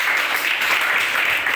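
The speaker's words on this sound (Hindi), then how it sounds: "जोरदार तालियां सबके लिए।" A group of students in a classroom claps loudly together, a dense continuous burst of applause lasting a second or two.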